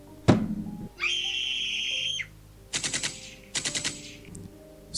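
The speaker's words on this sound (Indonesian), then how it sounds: "Suara tembakan terdengar kencang, diikuti jeritan seorang wanita." Gunshot sound effects for a horror story: one sharp close shot, then a sustained whistling tone, followed by two rapid bursts of automatic gunfire.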